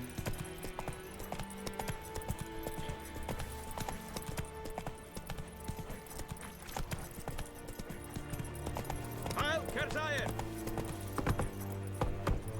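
Roach, Geralt's horse in The Witcher 3, gallops with steady, fast clip-clopping hooves throughout, set against a continuous game music score and ambient bed, growing slightly louder toward the end.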